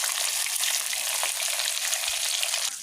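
Fish head in hot oil sizzles loudly and steadily in a pan, a dense even hiss throughout with a few small pops and stirring scrapes, no talking.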